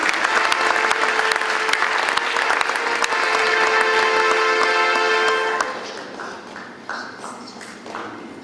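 An audience at a festival closing ceremony applauds in a dense, loud burst of clapping that thins into scattered claps near the end.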